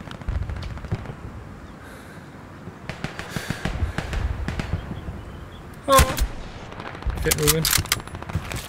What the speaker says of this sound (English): I'm being shot at now.